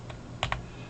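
A few quiet keystrokes on a computer keyboard, two quick taps close together after a lighter one, as math input is entered into Maxima software.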